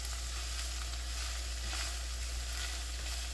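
Spices sizzle steadily in a skillet as they are stirred, a close, even frying hiss with no talking.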